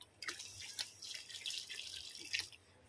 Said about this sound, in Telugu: ఇప్పుడు నీళ్ళు పోసుకుంటున్నా కొన్ని,